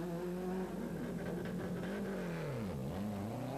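A 1993 Ypres Rally car pulls away from a stage start, its engine close and loud and revving up through the gears before easing off.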